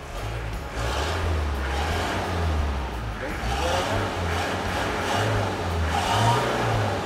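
A vehicle engine running on homemade fuel revs steadily with a low droning hum throughout, under intermittent voices talking nearby.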